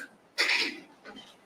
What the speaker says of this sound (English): Why are you blessing the person that just sneezed